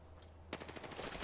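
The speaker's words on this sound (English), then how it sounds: "they're shooting me" Gunfire from a rival squad in the Apex Legends battle royale game starts abruptly after half a second of quiet: a rapid, close burst of repeated shots with a few sharper cracks near the end.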